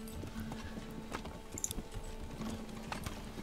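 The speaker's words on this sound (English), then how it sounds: "Oh, Fritz has an invisible horse" Horse hooves clip-clop in the medieval city-building game Manor Lords, a light, quick, irregular clatter of steps at moderate distance over a soft ambient game background.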